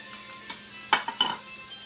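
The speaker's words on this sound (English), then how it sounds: "And you give it a little stir." Shrimp stir-fry being stirred in a pan with Kikkoman sauce: a few soft scraping strokes and a faint sizzle, close and quiet, with no talking.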